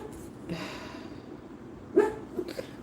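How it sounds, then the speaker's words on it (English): A sleeping dog gives muffled, soft barks and woofs from somewhere behind, a faint breathy sound early on, then a few short louder yips near the end, with no speech over it. "Why are you back there barking in your sleep?"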